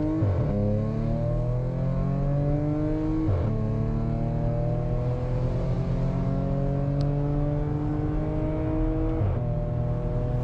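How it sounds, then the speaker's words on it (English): Audi S5 sedan with a 3-liter supercharged V6 TFSI engine accelerating at full throttle, engine note climbing steadily through the gears with brief dips at each shift, loud and continuous from inside the car. "right now we are driving the Audi S5 and straight away let's hit the full throttle"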